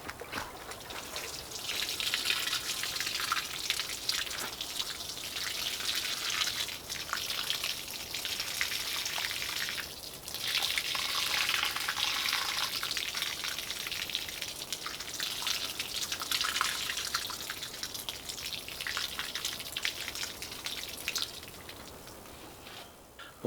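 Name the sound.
watering strawberry plants with water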